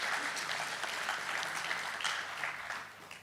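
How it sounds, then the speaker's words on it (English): Steady applause from a crowd, a dense wash of clapping that holds fairly even throughout with no voices rising above it. "A round of applause for"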